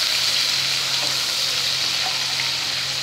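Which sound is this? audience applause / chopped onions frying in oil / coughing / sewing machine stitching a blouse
chopped onions frying in oil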